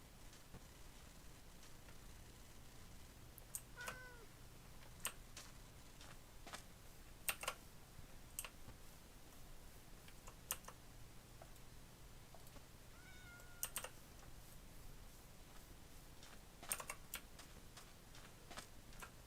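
A cat meows a couple of times in a video game, soft and brief, over a steady low hum with sharp ticking and clicking sounds scattered throughout.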